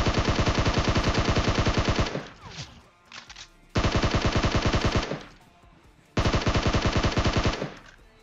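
Rapid automatic gunfire in the mobile battle-royale game PUBG Mobile, likely a SCAR-L assault rifle: three long loud sustained bursts separated by short gaps of quieter game sounds.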